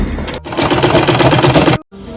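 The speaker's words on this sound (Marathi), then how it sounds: "हे मार्किंग केलेलं आहे त्याच्यावर आपण मशीन सिलाई मारूया" A sewing machine stitches a baby quilt in a fast, even mechanical rattle that runs close and loud, breaks briefly, then stops abruptly near the end.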